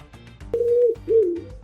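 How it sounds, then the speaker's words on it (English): Owl hooting twice in a row, a low smooth call with a short pause between, close and clear over a quiet background. "I mean, that's clearly an owl."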